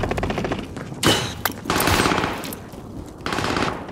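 Loud automatic gunfire in an online shooter video game, heard as dense, sustained bursts of rapid shots with brief gaps between volleys, close and overpowering.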